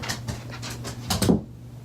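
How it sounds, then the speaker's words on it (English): Dogs panting with a soft whimper indoors, a run of quick breathy pants ending in a brief louder whine, close by with no talk. "My dogs are being so weird right now"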